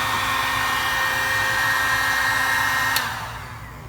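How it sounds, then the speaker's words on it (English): A heat gun on its second setting blows hot air over a Tesla Model S headlight, giving a steady loud whooshing roar that drops off at the very end. "I'll be using my heat gun at level 2 heating"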